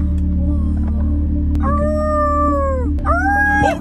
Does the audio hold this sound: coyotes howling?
yes